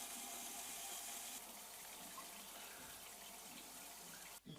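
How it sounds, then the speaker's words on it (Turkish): Steady hiss of water streaming from a water-saving shower head, continuous and fairly close, with a brief interruption near the end. "Bu da tasarruflu bir şekilde akan duş başlığımız."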